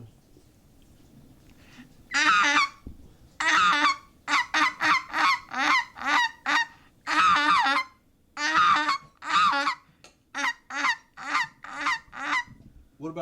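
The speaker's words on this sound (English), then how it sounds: "Yeah, I see some specklebellies coming in." Specklebelly geese, white-fronted geese on a Louisiana hunting camp, honk in a loud, steady chorus of repeated calls as the flock comes in, the calls bunched in rapid bursts with short gaps between them.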